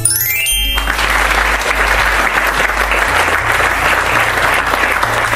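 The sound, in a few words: people applauding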